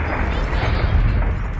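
A loud, sustained rumbling blast from a Peppa Pig cartoon fills the moment with dense low roar, steady and continuous for its whole length, without speech on top.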